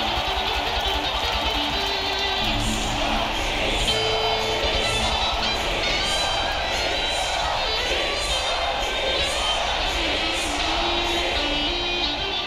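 A large crowd cheers continuously in the video game Psychonauts 2, a dense, loud wash of voices and shouting that holds steady throughout with rhythmic pulses in it.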